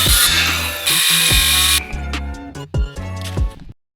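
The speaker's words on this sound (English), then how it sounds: "So, I just used my underpowered circular saw." An underpowered circular saw cuts wood to length in bursts, with loud broadband whine during each pass and rhythmic thumping between, ending in sudden quiet.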